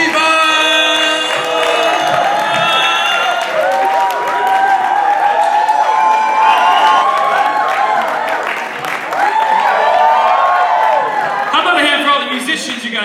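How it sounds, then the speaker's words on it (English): Live audience at a college comedy showcase applauds and cheers to welcome comedian K-von to the stage, with dense clapping, whoops and shouting sustained throughout and a few voices calling out over the crowd. "Please start putting your hands together. Let's hear it. Come on now. Please welcome to the stage, Kayvon!"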